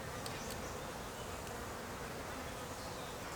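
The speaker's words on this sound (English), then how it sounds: "there's the cicadas. That's so loud." Cicadas drone loudly and continuously at a campsite, a dense steady buzzing wall of insect noise with no pauses.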